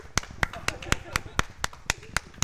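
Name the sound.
audience applause after a tournament final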